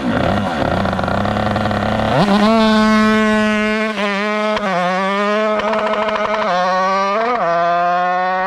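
A motorcycle engine at a moto run event revs hard and loud, climbing in pitch several times in quick bursts between short drops, the blips landing roughly every second near the listener, with no voices.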